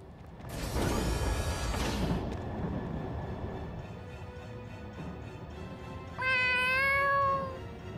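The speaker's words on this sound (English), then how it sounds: "Is that your cat?" A cat meows during gameplay, a clear rising-and-falling meow near the end following several seconds of busy game sound with a whooshing effect; no talk.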